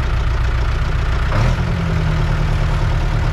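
A farm vehicle's engine in a farming video game runs at a steady, loud, low idle, with a brief change partway through as the engine note settles and keeps rumbling.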